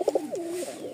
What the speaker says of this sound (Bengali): এই এক জোড়া রাজশাহী টাইগার গিরিবাজ, নরের ডাকটা আগে দেখাই